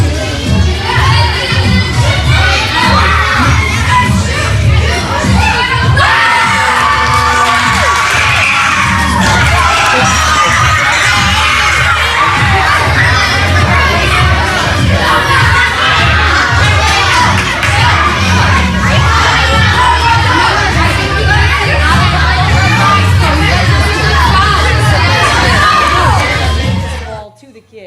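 A gym crowd of children shouts and screams nonstop during a ball game indoors, a loud, dense roar of high voices and cheering that holds for the whole stretch before cutting off abruptly.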